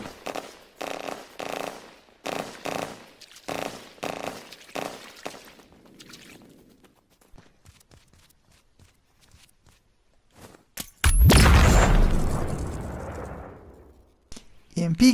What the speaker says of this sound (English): Let's have a look and see what an EMP grenade can do.